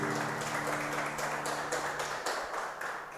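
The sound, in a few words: congregation applauding in church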